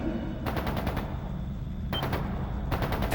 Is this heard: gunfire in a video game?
yes